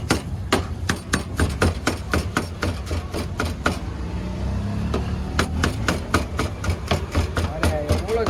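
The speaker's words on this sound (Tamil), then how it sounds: "அந்த சிக்கனை வந்து சின்ன சின்ன பீஸாக கட் பண்ணிகிட்டு இருக்காரு." Fried chicken being chopped into small pieces with a cleaver at a Trichy snack stall, as rapid, sharp, loud chopping strikes in an uneven rhythm, pausing briefly midway, over a steady low engine-like hum.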